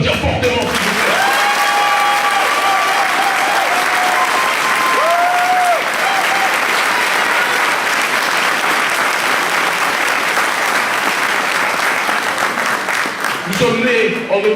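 Loud, sustained applause from a conference audience in France, steady and dense for the whole stretch, with whistles and cheering voices rising over the clapping before it thins near the end.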